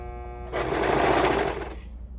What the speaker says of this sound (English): I'm going to go ahead and run those through the serger with a 1/2 inch seam allowance.